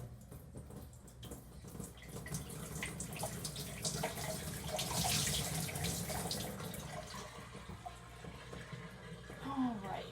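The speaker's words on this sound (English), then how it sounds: "I'm just going to take my hatchery and dump the contents right through the sieve." Hatchery water full of decapsulated brine shrimp is poured through a sieve, giving a continuous splashing, trickling rush that swells toward the middle and tapers off, close and moderately loud.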